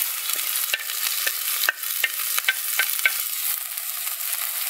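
Radicchio going into a pot of softened leek frying in oil for a radicchio and robiola risotto, a steady sizzle with light stirring and scraping taps throughout, close and alone.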